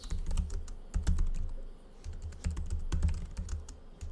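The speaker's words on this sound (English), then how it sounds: "I don't type as well as I think." Close, fairly quiet keystrokes on a computer keyboard come in irregular bursts of rapid taps with short pauses, and no one speaks.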